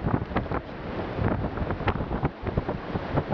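Gusty wind at Dumaluan Beach, Bohol, buffeting a microphone, a rough low roar rising and falling in uneven bursts, with no talking.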